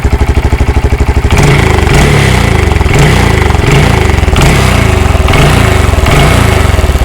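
A Honda Grom motorcycle engine with an erratic idle chugs steadily for a moment, then roars louder as the throttle is pulled, holding a strong revving drone with rhythmic surges, close and alone.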